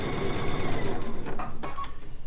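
A sewing machine stitches a quilt seam close up with a fast, steady mechanical whir and needle rhythm, then slows and stops near the end with a few small clicks; no one speaks.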